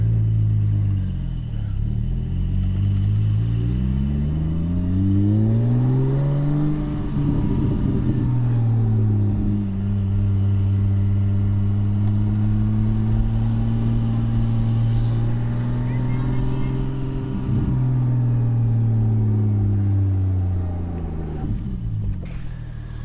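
A Porsche 718 GT4 fitted with a Soul Performance race exhaust drives along, its loud, droning exhaust note rising and falling with gear changes and acceleration while someone talks over it.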